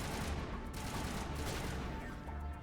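Dense, steady video-game gunfire keeps up a continuous barrage for under three seconds, loud and close, with no clear breaks between shots.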